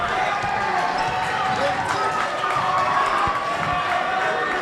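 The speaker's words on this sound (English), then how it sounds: "And the crowd stormed the court." Crowd storming the court after a JV championship basketball game: a dense, loud crowd roar with cheering and shouting, sneaker squeaks and ball bounces, continuous throughout with voices mixed in.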